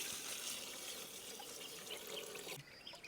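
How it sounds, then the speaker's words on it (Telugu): Water pours steadily into a pot of cooking country-chicken curry in a continuous rushing splash, close and fairly quiet, ending abruptly. "నీళ్ళు బాగా పోసుకొని"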